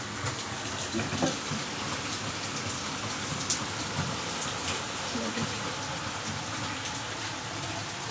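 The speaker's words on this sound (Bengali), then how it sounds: "দেখো কি বৃষ্টি হচ্ছে" Heavy rain pours down outdoors in a steady, dense hiss of drops striking surfaces, with scattered louder splashes throughout.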